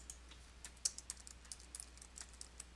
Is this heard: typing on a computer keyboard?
yes